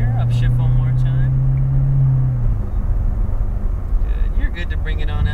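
A Corvette C7 Z06 engine drones loudly on a track, holding a steady pitch before easing off at a shift, then rumbling back up while an instructor talks over it.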